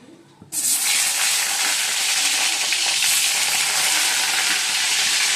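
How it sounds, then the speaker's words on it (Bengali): Eggplant drops into hot oil in a wok and bursts into a loud, sudden sizzle that holds strong and steady after a brief quiet start. "এবার বেগুনটা ভেজে নেবো।"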